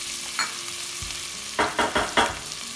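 Finely chopped green chilies fry with hing in hot oil, a steady bright sizzle broken by a cluster of scraping spoon strokes stirring the pan, close and fairly loud.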